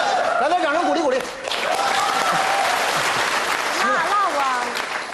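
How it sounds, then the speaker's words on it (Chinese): An audience claps steadily through a comedic scene, with people talking and a few chuckles over the applause. "掌声鼓励鼓励"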